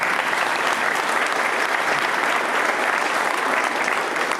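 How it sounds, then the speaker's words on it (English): A large crowd at a VA clinic opening ceremony breaks into a dense, continuous wash of applause, loud and even from start to finish. "give yourselves a round of applause"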